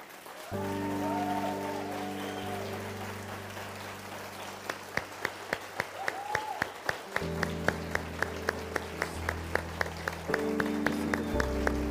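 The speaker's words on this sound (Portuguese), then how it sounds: "Eu queria que você ficasse em pé e aplaudisse a Jesus" A church congregation claps in a rolling, scattered applause that swells and continues over sustained keyboard chords.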